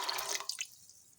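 Water from a jug poured with salt into a pot of black chickpeas, a brief splashing gush that fades out within about half a second, close and fairly quiet.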